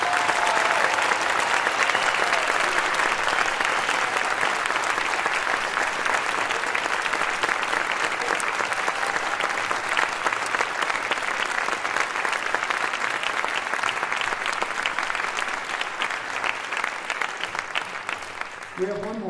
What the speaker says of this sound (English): Can we please have a large round of applause?